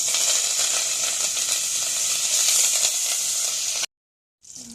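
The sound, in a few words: curry leaves and fenugreek frying in oil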